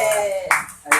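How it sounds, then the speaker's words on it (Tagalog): A couple of sharp hand claps ring out close by during a prayer gathering, following a brief stretch of tonal sound. "Uy, pakpak!"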